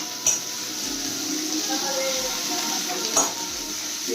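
Potatoes frying and being stirred in a pan at a small outdoor picnic cookout, a steady broad sizzle with a couple of sharp utensil scrapes against the pan, with faint voices in the background.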